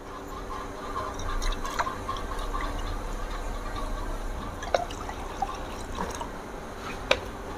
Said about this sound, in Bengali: আর এর মধ্যে আমি জল দেব।